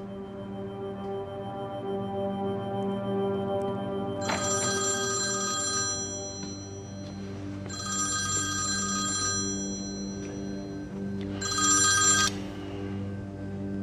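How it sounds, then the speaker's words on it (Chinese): A telephone rings in three separate bursts, each ring a bright trilling electronic tone, in a quiet indoor room over a steady low background hum. "终于接电话了"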